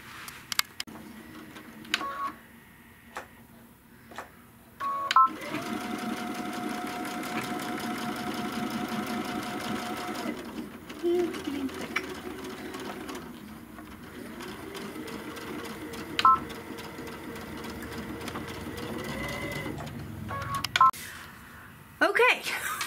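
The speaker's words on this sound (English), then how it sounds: "we're going to sew a 1/4 inch seam across there. Be sure you back stitch good because this is pretty thick." Sewing machine stitching a quarter-inch seam with backstitching through a thick paisley belt bag, in short whirring runs that start and stop between pauses, with a person talking over parts of it.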